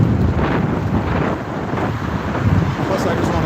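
Strong wind buffets the microphone outdoors at a flag-waving rally, a loud, continuous roaring rumble that swells and dips throughout with no break.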